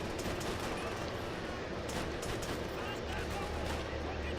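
Rapid video game gunfire while shooting enemies in a World War II level, a dense, continuous crackle of shots and bursts under a speaking voice.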